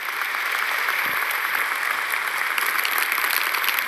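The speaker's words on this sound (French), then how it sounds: "On dirait il y a 1000 personnes qui applaudissent." Dense, continuous applause, like a big crowd clapping at once, comes from a centipede character in the animated series The Amazing Digital Circus. It stays loud and even throughout, with no talking over it.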